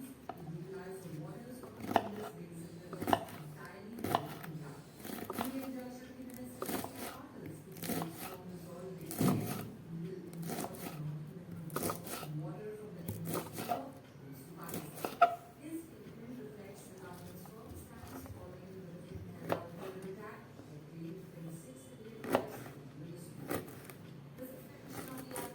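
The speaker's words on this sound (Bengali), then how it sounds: "চলুন, এইভাবে আমি সমস্ত মোচাগুলোকে কেটে নিচ্ছি।" A knife slices banana flower into thin strips on a board, giving a steady run of crisp, close chopping strokes with talking heard under the cutting.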